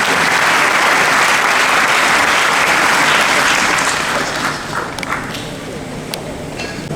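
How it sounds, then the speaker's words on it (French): Audience applause at an awards ceremony for a national school competition, loud and dense clapping filling the hall, then tapering and thinning toward the end with a few scattered claps. "On les accompagne avec les applaudissements."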